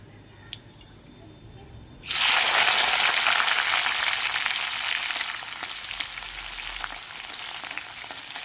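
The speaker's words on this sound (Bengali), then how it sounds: "পেঁয়াজটা আমার লাল লাল করে ভাজা হয়ে গেছে।" Chopped onions drop into hot oil in a pan, with a sudden loud sizzle that holds steady and then eases slightly, with faint stirring.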